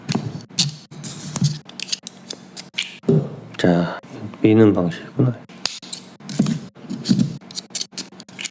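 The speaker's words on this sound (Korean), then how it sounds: "테이프를 다 뜯었고요." Packing tape is ripped off the box of a Joytron MAEST studio microphone during unboxing, giving several sharp, rasping tears close by, interspersed with someone talking.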